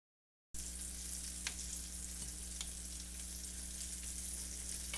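Meat laid meat side down in a hot pan on a home kitchen stove, hissing and sizzling steadily and loudly up close with a few small pops, after a moment of silence at the start.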